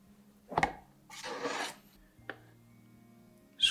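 A few short scrapes as tempered chocolate is cleared off the edges of a bonbon mold, one longer rasping stroke between brief clicks, close and fairly quiet.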